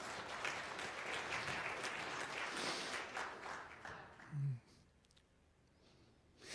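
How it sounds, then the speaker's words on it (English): A Burmese congregation claps in a church setting, a dense burst of applause over the first few seconds that quickly fades away, leaving near silence. "Yeah, you can clap for that."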